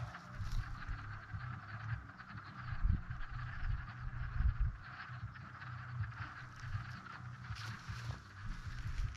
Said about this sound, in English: brings all the frogs back to the pond